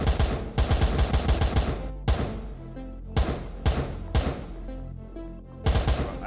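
Rapid automatic gunfire in the VR game Blade and Sorcery Nomad, loud close bursts in repeated volleys separated by brief pauses, with echoing tails between them.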